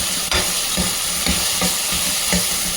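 Ginger garlic paste fries in hot oil with a constant loud sizzle, broken by several rhythmic scrapes of a spoon stirring the pan up close.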